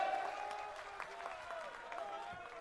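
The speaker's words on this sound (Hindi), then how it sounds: "के शर्मा साहब के लिए एक बार पुनः ताली बजावे जोर से।" A crowd at a community foundation event in Sagwara claps for an organizer, a soft, fairly distant patter of many hands with a voice and some tonal sound beneath.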